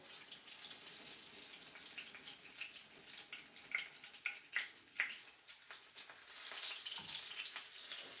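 An egg-battered chile relleno fries in a pan of oil with a soft, steady sizzle and crackling pops, quiet and close, swelling louder near the end as it is flipped.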